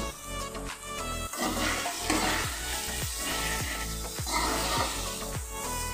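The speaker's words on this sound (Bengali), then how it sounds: "ভেজে রাখা পটল আলুটা এখন আমি দিয়ে দেব। আর দিয়ে আরও বেশ কিছুক্ষণ এটাকে আমি কষিয়ে নেব।" Fried pointed gourd and potato pieces are tossed into a pan of cooked masala and stirred, a dense sizzle with repeated scraping strokes, close and without talk, a faint tonal hum running underneath.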